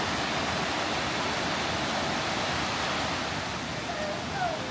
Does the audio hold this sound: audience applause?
no